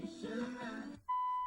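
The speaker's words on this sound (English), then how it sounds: "There's our beeps." Car stereo in a 1978 Ford Thunderbird with an AM-FM-8 track modern conversion gives a steady electronic confirmation beep, a single sustained tone of about half a second following a spoken phrase and a brief pause.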